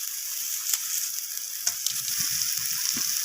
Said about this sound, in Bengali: আদা বাটাটাকেও মশলার সাথে কষিয়ে নিচ্ছি